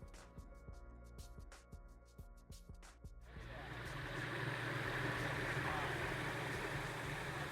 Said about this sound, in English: we're gonna fire it up and we're gonna let it cut